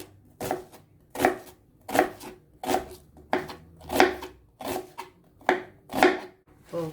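A knife slices food thinly on a cutting board, about nine evenly spaced crisp chops, close and clear with brief quiet gaps between strokes.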